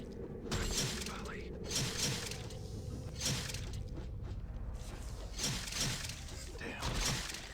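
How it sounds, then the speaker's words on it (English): Skeletons being smashed in Planescape: Torment, with repeated crunching, shattering blows in a loose rhythm over a steady background hum, each hit sharp and close. "Let's get a little XP from smashing some skeletons."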